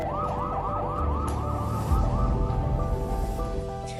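An ambulance siren wails in a steady repeating yelp cycle, loud and fairly close, with low traffic rumble beneath and no talk.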